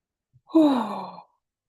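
A single deep human yawn, drawn out into a sighing exhale that swells and fades over about a second, heard alone in a quiet setting during a calm anger-release tapping exercise.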